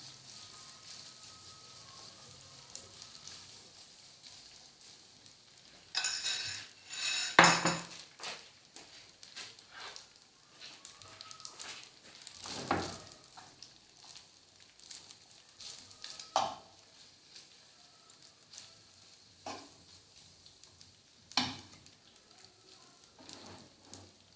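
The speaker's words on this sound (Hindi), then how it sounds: "ये देखें इसी ऑयल में हम ये स्पैगेटी भी फ्राई करते हैं।" Spaghetti fries in oil in a kitchen pan with a soft, low sizzle, broken by clattering utensil scrapes and knocks against the pan, some sharp and close, at an irregular pace.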